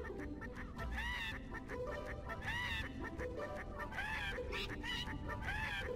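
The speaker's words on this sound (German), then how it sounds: "Viele Jahre schon übe ich mit diesen Vögeln das Singen." Off-key bird calls in Skylanders Trap Team repeat in about four squawking, warbling bursts, harsh and shrill like clucking fowl, over busy game background sound.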